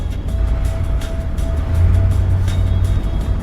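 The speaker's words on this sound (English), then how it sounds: "It's a pity about the traffic." Road traffic outside a tunnel rumbles as a steady low engine drone with a faint tonal hum and light intermittent ticking on top, loud and continuous with no voices.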